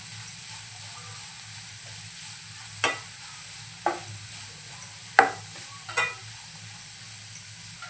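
French beans with a pinch of turmeric stirred in a frying pan over a steady low sizzle, with a series of sharp, close scraping strokes of the spoon against the pan at irregular intervals.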